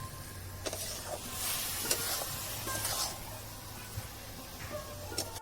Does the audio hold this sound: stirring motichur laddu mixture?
yes